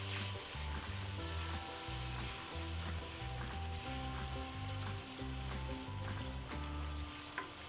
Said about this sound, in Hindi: दही को भी हम अच्छे से मिक्स कर लेंगे।